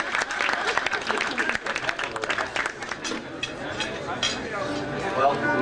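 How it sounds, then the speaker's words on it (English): A roomful of people claps at a 50th anniversary celebration, brisk uneven applause that thins out toward the end while voices chatter underneath. "Give him a round of applause for his notes."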